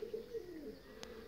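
Soft, low cooing from a pigeon or dove, a few gentle rolling notes close by, with a brief sharp click near the end.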